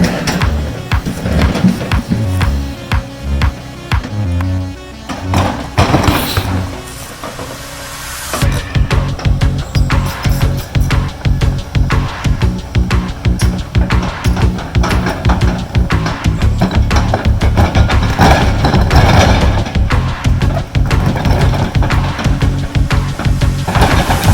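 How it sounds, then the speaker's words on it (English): A big Volvo excavator digging out a ditch for a 30-foot culvert pipe, its engine droning loud and close with steady rhythmic clanks and scraping of the bucket throughout. "Digging out that ditch"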